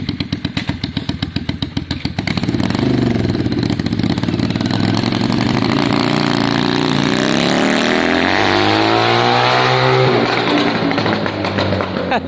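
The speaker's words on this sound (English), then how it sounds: "The engine sounds happier." A Yamaha Virago motorcycle with straight drag pipes runs loud and close, its engine pulsing steadily at first and then revving up into a sustained roar with a rising, wavering pitch.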